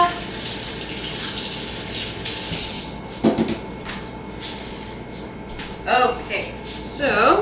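Tap water runs and splashes into a kitchen sink as something is rinsed off while baking banana bread, a steady close wash with a few clatters and shifts in flow, with a voice speaking over it.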